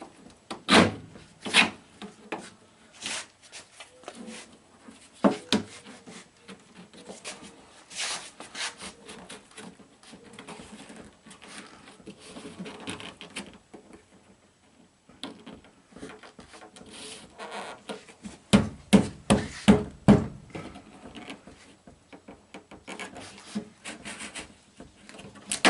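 Fasteners prised off the body trim of a Mercedes-Benz W123, giving scattered sharp clicks and pops among quieter scraping and rubbing of a tool against the panel, close up, with no talk.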